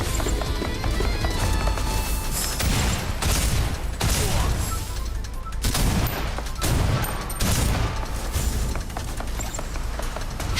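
Video game gunfire rattles in bursts of rapid shots over a busy, constant background of effects and music, with sharp impacts spaced through the stretch.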